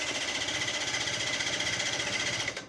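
A Yamaha Zuma Bugeye scooter engine, side cover removed, cranks over with a fast, even mechanical chatter close by, running steadily before cutting off abruptly at the end.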